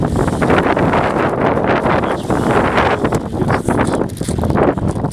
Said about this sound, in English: It's a little windy out here.